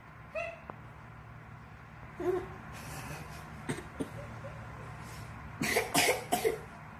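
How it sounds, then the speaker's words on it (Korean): A few short, soft coughs from a small child, scattered across a quiet room with faint background hum. "그봐, 기침하네."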